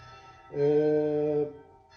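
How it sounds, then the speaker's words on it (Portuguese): A church bell rings at six in the evening, a single sustained tone that swells in and fades after about a second, quiet and alone. "Agora vocês vão escutar aqui o sino tocando"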